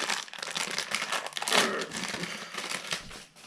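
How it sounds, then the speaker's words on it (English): Plastic wrapping crinkles and crumples close up as it is pulled off a KRSEC pipe stem, a steady rustle that lasts a few seconds with one louder tearing swell. "Okay, plastic removed."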